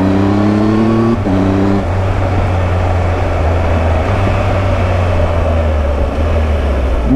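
Triumph Tiger 1200 XCA motorcycle accelerating hard, with quickshifter gear changes making brief breaks in the rising engine note before it pulls on again as a loud, steady drone.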